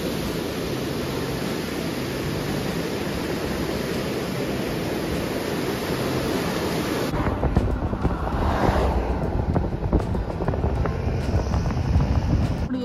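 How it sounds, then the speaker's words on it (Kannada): Steady roar of rushing water from a waterfall near Lauterbrunnen village in the Swiss Alps, a dense broadband wash that continues throughout, with a rougher, wind-buffeted texture in the second half. "ಪಕ್ಕದಲ್ಲೇ ಒಂದು ಫಾಲ್ಸ್ ಇದೆ."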